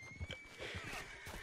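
A horse in the video game Red Dead Redemption 2 whinnies and clops its hooves close by, the neigh and hoof thuds repeating across a short, busy stretch with a steady game tone underneath.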